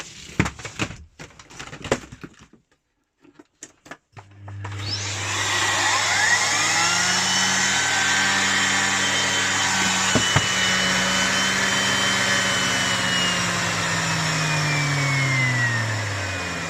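A Miele Complete C3 Cat & Dog PowerLine vacuum cleaner switches on after a few clicks and handling noises, spinning up into a loud, steady whine that drones on continuously, with a couple of brief knocks midway.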